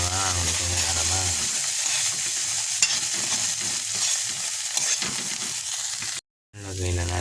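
Shrimp paste (alamang) sizzling and being stirred with vegetables in a hot pan, a close, crackling fry with scraping stirs, a brief pause and a voice talking at the start.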